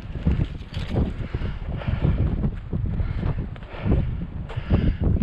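Strong gusty wind buffets the microphone on a cold winter mountaintop at Monte Generoso overlooking Lake Maggiore, a loud continuous low rumble with surging gusts and no speech.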